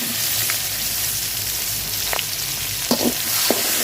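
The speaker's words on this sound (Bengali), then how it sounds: "পেঁয়াজ কুচি দিয়ে দিলাম।" Chopped onions fry in hot oil in a pan, giving a steady close sizzle broken by a few light spatula scrapes and taps against the pan.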